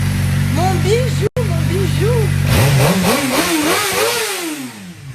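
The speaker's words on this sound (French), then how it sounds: "Oh, j'adore ce bruit, oh là, j'ai toujours aimé les motos" Motorcycle engine revving and pulling through the gears while riding along the riverside quays in Lyon, France, loud and close with rising and falling pitch sweeps; a person talks over it early on.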